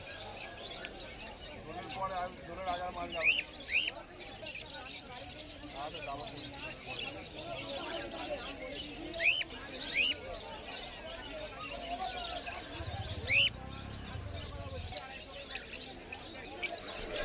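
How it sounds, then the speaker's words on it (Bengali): Caged pet birds such as cockatiels and Fischer's lovebirds at Galif Street pet market, with scattered sharp chirps and tweets over busy market noise while someone talks throughout. "এই খাঁচাটার মধ্যে কিছু ফিশার লাভবার্ডের পেয়ার আছে"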